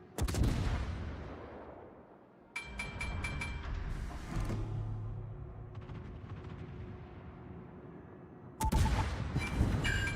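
Warship guns firing at cruisers in World of Warships: heavy booming salvos open the stretch, another roars in a few seconds later, and a final loud volley lands near the end over rumbling background.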